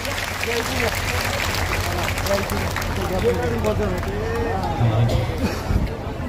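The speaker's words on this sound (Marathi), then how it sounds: "जोरदार टाळ्या वाजवून भंतेजींचं स्वागत करा" Crowd at a Buddhist robe-offering ceremony in Nanded applauds steadily to welcome visiting monks, a dense continuous wash of clapping with murmuring voices and some talk underneath throughout.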